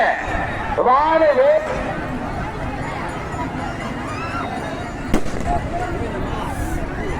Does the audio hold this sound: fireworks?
yes